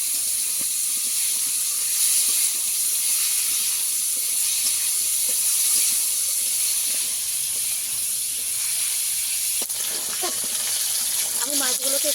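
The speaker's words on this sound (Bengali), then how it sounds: "আমি মাছগুলোকে একটু উল্টে পাল্টে লাল করে ভেজে নেব।" Pieces of kuche eel frying in oil in a pan give off a steady, even sizzling hiss for the whole stretch, with a few light clicks and scrapes near the end.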